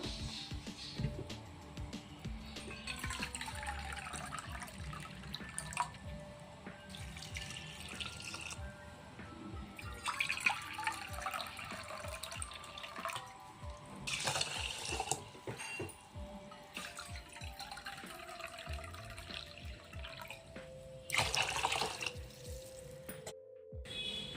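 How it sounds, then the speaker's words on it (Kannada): Water poured from a cup into rice and lentils for tomato bele bath, several separate pours splashing and trickling close by, with brief pauses between them and no talk. "ಇದರಲ್ಲೇ 4 ಕಪ್ ನೀರು ಹಾಕಬೇಕು"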